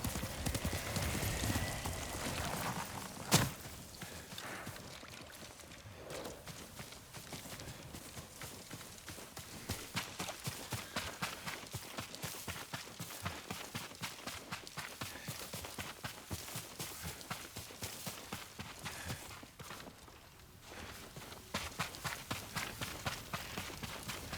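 Rapid, steady clip-clop of horse hooves galloping in the video game Ghost of Tsushima, loud and close for the whole stretch, with a brief sharp crack early on and a short lull near the end.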